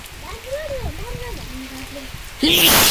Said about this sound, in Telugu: చాలా రోజుల తర్వాత పడుతుంది వాన